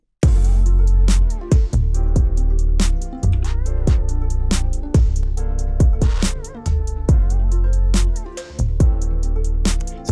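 Deep, booming 808 bass hits slide and sustain under snappy drums and crisp hi-hats, a loud looping trap-style beat with no voices.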